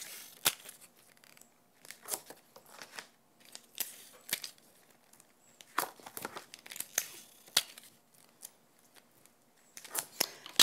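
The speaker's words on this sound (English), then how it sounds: "Using some double-sided tape, we'll just pop that around the corners here, all the edges." Double-sided tape being torn and pressed onto card for a die-cut craft piece, a quiet sequence of short crinkly rips and taps repeating irregularly, close up and alone.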